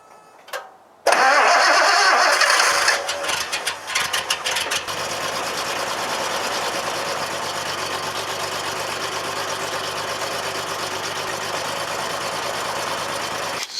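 A Datsun 280Z cranks briefly and fires up, then settles into a steady, loud running engine note that carries on evenly to the end, with no talking.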